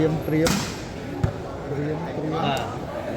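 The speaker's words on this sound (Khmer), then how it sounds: "ឥឡូវនេះគឺឲ្យអ៊ូវាយសេវាវិញម្ដងឥឡូវ" A sharp smack of a ball being hit stands out among crowd chatter and commentary, with a few more thuds later.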